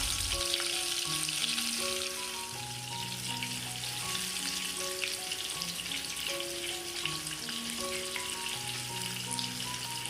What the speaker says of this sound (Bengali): তেলটা ভালো মতো গরম হলে আমি ওর মধ্যে একে একে নুন হলুদ মাখানো চিংড়ি মাছগুলোকে ছেড়ে দেবো